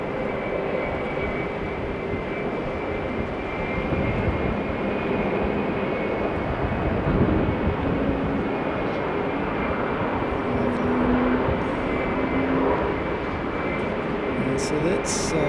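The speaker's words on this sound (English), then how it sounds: "So that's someone with their reversers on while the nose wheel is well and truly off the ground." An airliner lands with thrust reversers deployed, a loud, sustained roaring engine rumble carrying at a distance, with talk over it.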